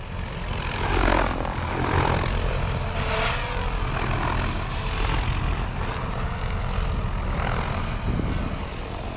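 A Freedom Piuma RC helicopter hovers nearby at low head speed, its rotor thumping in a steady pulsing whir that stays fairly constant and loud throughout.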